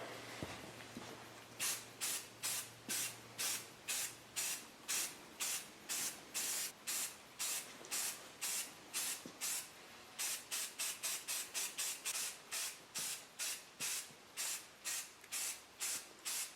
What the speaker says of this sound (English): for the spray paint, we're gonna be using Rust-Oleum. It's gonna be like a rust-resistant spray paint in flat black.